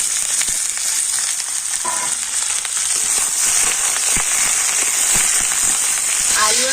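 Potatoes and ivy gourd fry in hot oil with a loud, close, continuous sizzle, dotted with crackles and spoon-stirring clicks throughout; a brief faint voice slips in near the end.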